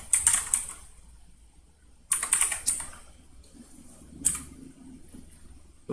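Typing on a computer keyboard comes in three short, crisp bursts of rapid clicking keystrokes separated by quiet pauses, close and fairly soft, with a voice faintly present in the background.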